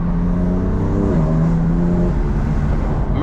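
A 530 bhp BMW M3 Competition accelerating hard in second gear, heard from inside the cabin as a loud, steady engine drone climbing in pitch with a brief dip at a gear change.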